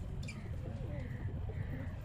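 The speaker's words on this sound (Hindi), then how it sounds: "ये है कबूतर" A Kala Jangla pigeon coos softly in a low, throaty murmur over a steady background hum.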